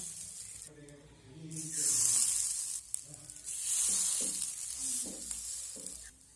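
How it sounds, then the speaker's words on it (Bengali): Brinjal slices dropped into a hot, oil-free kadai over a low gas flame give a broad, steady sizzle with bursts of hiss and some clatter, and a voice speaks intermittently over it. "এখন আমি বেগুনগুলোকে এই কড়ার মধ্যে দিয়ে দেবো"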